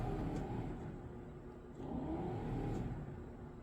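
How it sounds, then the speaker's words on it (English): A car's blower motor whirs steadily nearby, a continuous low drone that dips slightly midway and then returns to full strength. "hopefully the camera picks up the blower motor's running"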